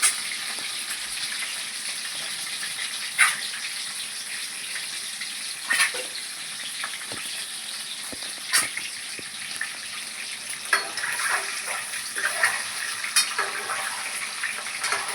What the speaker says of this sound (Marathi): बघू शकताय छानसे भाजतायत आपले अंडे।